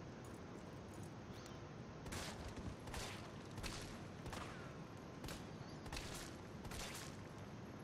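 Gunfire in the Resident Evil 3 video game: a string of sharp, faint shots at irregular intervals over a steady background hiss, with no talking.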